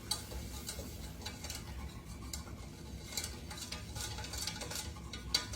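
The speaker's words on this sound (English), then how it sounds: "And let me get this stirred up." A utensil stirs five tablespoons of flour into melted butter in a pot, making soft, irregular scraping and light ticking taps against the metal, quiet and close, with no talking.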